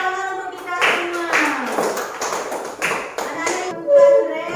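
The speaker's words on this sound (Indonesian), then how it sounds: "Tepuk tangan untuk kita semua." Students clapping in an Indonesian primary classroom, a few rhythmic bursts of hands set against children's voices and a teacher talking over them.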